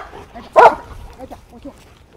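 A police K-9 dog during an article search demonstration gives one short, sharp bark or yip amid quieter background activity and voices.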